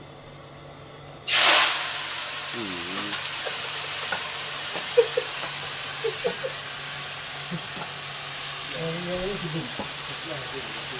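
A sudden loud sizzle erupts as morning glory greens hit a hot wok, settling into a continuous frying hiss while someone speaks briefly over it.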